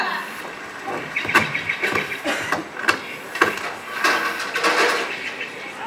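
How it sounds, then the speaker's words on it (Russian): A pot and utensils clatter while macaroni cooks, giving sharp, irregular metallic clinks and knocks at moderate volume over a busy background, with no voices over them. "Вот варю макароны"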